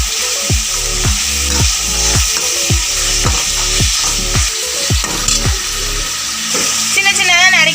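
Tomatoes and green chillies sauté in a hot pan, crackling and sizzling steadily while a spoon scrapes and stirs in a regular back-and-forth rhythm, close up, with no voices.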